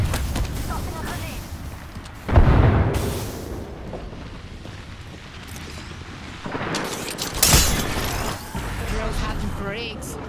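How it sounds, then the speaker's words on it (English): Thermite grenade bursting in Apex Legends, with a loud blast near 2.3 seconds and another sharp burst near 7.5 seconds over dense game noise and gunfire. "Throwing thermite grenade."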